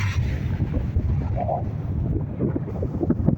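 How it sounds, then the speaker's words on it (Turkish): Strong wind buffets the microphone in a continuous low, rumbling roar near a high viaduct overlooking a dam lake at Yusufeli, with no voices. "Çok rüzgar çıktı şu anda."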